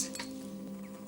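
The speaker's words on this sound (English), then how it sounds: "Bees!" Bees give off a short, steady buzzing drone, close and moderately loud, lasting about a second with no voices over it.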